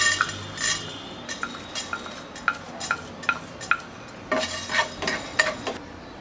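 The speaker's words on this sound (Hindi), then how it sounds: "मसाले के पाउडर के सारे इंग्रेडिएंट्स हम एक एक करके रोस्ट करेंगे, जैसे कि साबुत धनिया, दालचीनी, लौंग और जीरा।" Whole coriander seeds, cinnamon, cloves and cumin dry roasting in a pan, with scattered light clinks and scrapes of a stirring utensil against the metal, close and fairly quiet, no talking.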